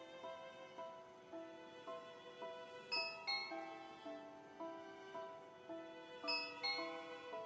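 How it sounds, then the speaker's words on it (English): A doorbell wired to a home gaming station plays a faint, melodic electronic chime in a repeated sequence of ringing tones, quiet and clean with no talking. "I had connected the doorbell to my gaming station."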